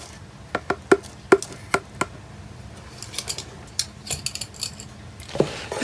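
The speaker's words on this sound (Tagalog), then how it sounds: "mix lang natin para maghalo ang ating mga ingredients" Homemade pancake batter ingredients, including salt, get mixed in a bowl: a run of crisp, rhythmic utensil clinks against the bowl, then quicker, busier tapping and scraping close by, with no voices.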